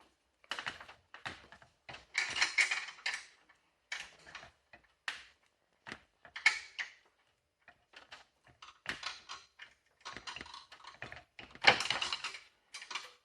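Bolts are tightened while a bench vise is fitted to a workbench, giving irregular bursts of metallic clicking and ratcheting with short quiet gaps between, close by and without speech.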